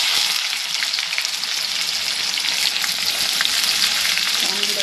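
Chopped onion dropped into hot oil for khichadi, sizzling and crackling steadily at close range, a dense bright frying hiss with no voices over it.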